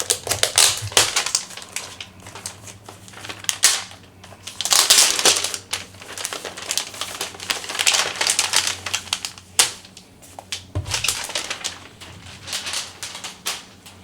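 Plastic film crinkles and crackles as it is peeled off a new Razer Blade 15 gaming laptop, with close, irregular bursts of rustling throughout.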